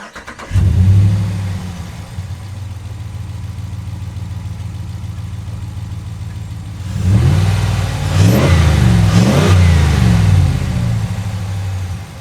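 A car engine with a cold air intake cranks and catches, then settles into a steady idle before revving sharply several times, loud and close.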